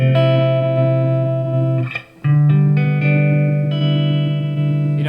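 An electric guitar plays through an Old Blood Noise Whitecap tremolo pedal: loud, sustained, slightly distorted chords ring out, break off briefly, then a new chord swells and holds.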